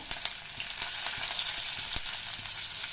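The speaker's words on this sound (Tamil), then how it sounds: "நல்லா ஃப்ரை பண்ணி விட்டுக்கலாம்" Semiya frying in a pan with green chili, onion and curry leaves, a dense, even sizzle with light crackles and faint stirring, close and steady, no voices.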